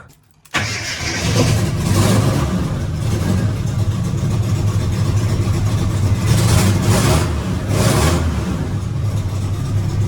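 Motorcycle engine warming up, a steady running rumble with throttle blips swelling the revs at a few points, close and loud throughout with no talking.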